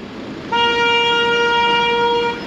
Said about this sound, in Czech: Klakson se musí sem tam vyzkoušet.